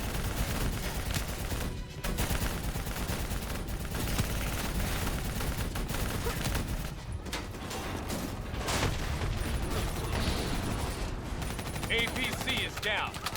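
Dense, sustained bursts of weapon fire aimed at a VTOL aircraft in the video game Call of Duty Black Ops 3, loud and continuous with rapid overlapping shots and mechanical clatter throughout.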